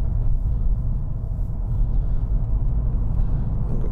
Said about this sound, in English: we're off the ice and onto some tarmac now